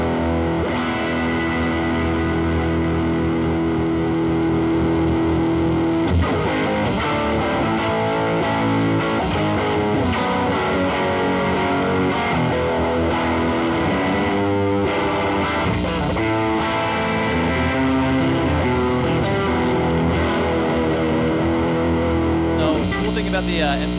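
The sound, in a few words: electric guitar through Fender MTGLA tube distortion pedal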